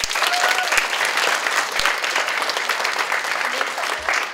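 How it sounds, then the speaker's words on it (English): Warm audience applause at a DARE graduation ceremony, a steady dense wash of clapping from a seated crowd, moderately loud and continuous throughout. "Let's give her a round of applause."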